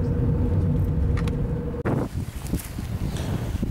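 Wind blowing across an open pasture during metal detecting, buffeting the microphone with a heavy, low, rumbling roar that stays loud throughout, briefly cut by a sharp dropout before gusting on.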